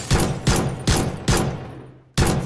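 Pistol shots in PUBG, five loud single cracks at a steady, roughly half-second pace, each with a short decaying tail, and a brief gap before the last.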